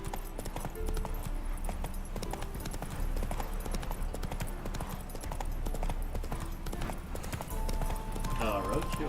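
In The Witcher 3, the horse Roach gallops with a steady, rapid clip-clop of hooves throughout, close and prominent, while speech runs over the hoofbeats and a brief whinny-like sound comes near the end.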